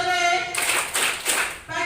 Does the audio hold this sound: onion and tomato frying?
no